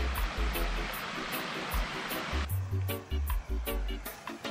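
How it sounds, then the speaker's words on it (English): A small creek coming off the side of a trail near Linton Lake, Oregon, flows and splashes close by in a steady broadband rush, with faint rhythmic knocks and footsteps mixed in and no talking. "little creek coming off the side."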